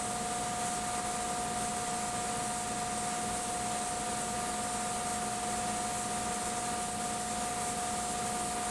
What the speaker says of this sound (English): It only takes about 20 minutes for the lacquer to dry.